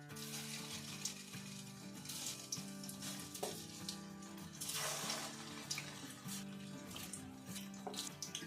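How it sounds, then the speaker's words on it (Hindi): Beef and egg koftas frying in hot oil in a kadai, a steady close sizzle with soft bubbling and occasional stirring, no talk. "तो यहाँ पे सबसे पहले हम कोफ्तों को फ्राई कर लेंगे"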